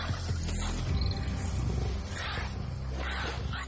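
Three lions growl and roar while facing a honey badger mother defending her cub in a marsh, loud, deep and continuous throughout with no talk over them.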